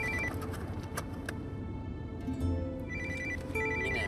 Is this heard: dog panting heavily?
no